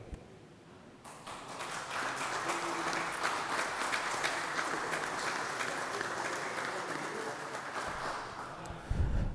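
Applause in a municipal council chamber during a session, sustained clapping from a modest group that begins after a quiet second and continues evenly, with a brief louder knock at the very end.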